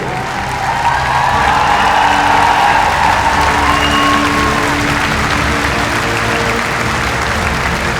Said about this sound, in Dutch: De applaus, laat het nog eens opzwellen mensen, laat het nog eens horen.